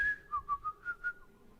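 Someone whistles a short tune of about five quick, clear notes, quiet and alone, with a held note at the start and a fade at the end.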